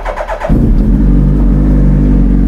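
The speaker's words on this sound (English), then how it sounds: "bike's fires right up" A Suzuki Hayabusa motorcycle engine catches after a brief crank and settles into a loud, steady idle close by.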